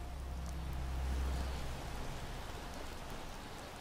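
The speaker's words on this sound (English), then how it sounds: "it's raining now" Steady rainfall in Skyrim, a soft, even hiss of drops with a low rumble underneath, faint and continuous with no voices.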